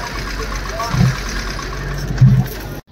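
A Hyundai i10 engine with a loose gearbox mount bolt hums at idle, with two dull low thumps as the accelerator is pressed, and a voice speaks over it before it cuts off abruptly.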